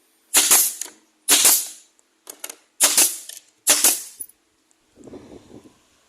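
Sharp mechanical clacks and bursts ring out in quick succession, four or five loud and close together, then a softer rumble, as kitchen corner cabinet parts are screwed together with a power driver.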